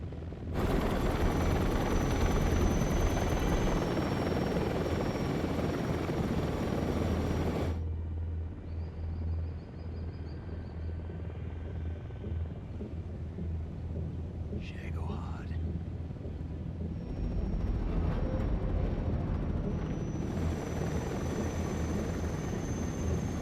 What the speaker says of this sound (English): you hear a bunch of military choppers flying overhead